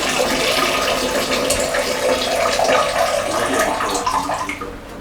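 Water runs steadily from a tap during handwashing, a continuous close hiss and splash that fades slightly at the end.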